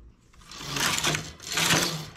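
A knitting machine carriage sliding across the needle bed while knitting a shorts piece with rounded sides, two rattling, swishing passes in quick succession, close and clear.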